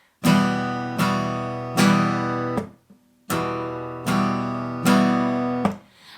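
Acoustic guitar strummed in a steady rhythmic pattern of ringing chords, a few strokes cut short with palm muting, close and clear with no voices.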